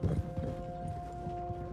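Horse hooves clip-clop in Red Dead Redemption 2, a few soft, uneven steps close by over a steady tonal game hum, with no talking.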